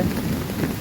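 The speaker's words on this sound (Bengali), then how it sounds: "মেঘ ডাকছে আপনারা শুনতে পাচ্ছেন" Heavy rain pours steadily while a low thunder rumble rolls underneath, a dense, continuous wash of sound with no voices.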